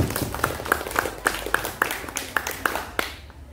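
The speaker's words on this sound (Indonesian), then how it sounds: "Ya, tepuk tangan Reza." Classmates in a primary school floor gymnastics lesson clap for a pupil named Reza, a scattered run of about a dozen sharp, uneven hand claps with room noise behind, moderately loud and close.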